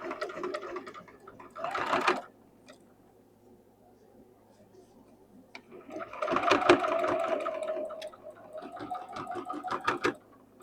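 A sewing machine stitches fabric in two runs, a short burst followed by a longer steady whirring, separated by a quiet pause.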